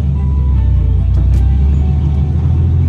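A Nissan 240 car engine runs steadily in first gear with the clutch let out, a deep, constant rumble heard up close and unchanging throughout, with no voices.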